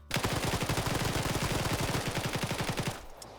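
Rapid automatic gunfire from a PvP shooter video game, a fast steady burst of many shots close and loud for about three seconds before cutting off abruptly.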